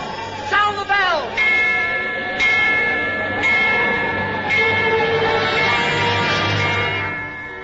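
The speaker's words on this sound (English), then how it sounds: "Sound the bell." The Liberty Bell rings as a warning in a radio drama: about five loud, close strikes, each with a shimmering tone that lingers and overlaps the next over a low background hum.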